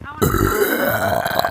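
Someone gives a loud, rumbling burp up close for about a second. A voice talks over the end of it.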